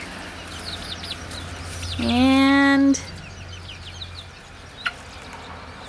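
Backyard hens cluck softly on damp ground after rain. One bird lets out a loud, drawn-out squawking call lasting about a second. A person speaks briefly nearby.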